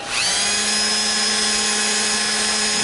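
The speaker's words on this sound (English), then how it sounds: "I gotta turn the Dremel off and on." A Dremel rotary tool spins up with a quick rising whine and settles into a steady, loud, high-pitched drone while grinding the bore of an ER32 MT3 collet chuck on a lathe, with no talk.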